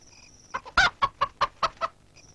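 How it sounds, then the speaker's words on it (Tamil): A chicken clucks in a quick series of about seven sharp, close calls, with a faint tonal sound before and after them. "என்னடா சத்தம்? கோழி கத்துதுண்ணே."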